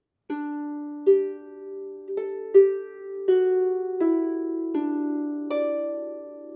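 A short melodic phrase of plucked harp notes, each ringing clearly and overlapping the next, played at a moderate, steady pace with no voices.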